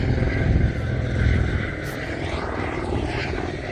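A steady, rumbling drone of a landing helicopter's engine, moderately distant, holds evenly with no clear change in pitch, in the Himalayas.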